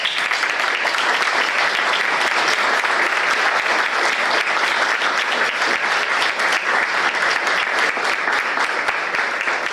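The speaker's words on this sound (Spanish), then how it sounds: "un aplauso bien grande para la comisión del Club de Residentes de México." A large audience at a Mexican residents' club gathering claps loudly and steadily for the club committee, a dense, sustained burst of applause lasting the whole stretch with no voices on top.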